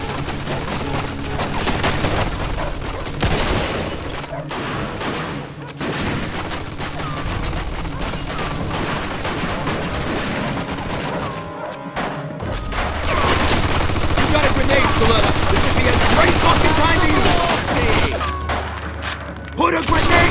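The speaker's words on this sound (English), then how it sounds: "Looks like we found the machine gun." Machine gun fire in the 2020 Mafia II Definitive Edition, sustained rattling bursts mixed with booms and shattering debris in a loud firefight, with voices shouting throughout.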